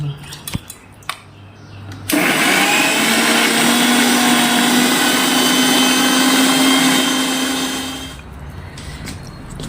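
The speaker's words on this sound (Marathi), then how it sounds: "आता हे मिक्सर करणार" A kitchen mixer grinder grinding chutney with cumin, salt and chilli roars loudly and steadily for about six seconds, then winds down, with faint clatter before and after.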